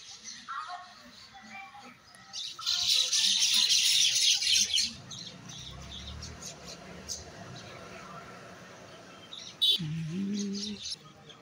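Birds nesting in holes in a tree chirp in a dense burst, then give scattered calls, while a person talks nearby.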